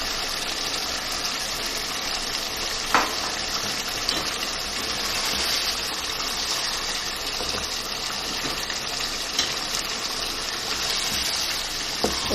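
Potatoes and green chillies fry with mutton in a pan, giving a steady hiss and sizzle at moderate level, with a few soft clinks of a utensil along the way and no speech.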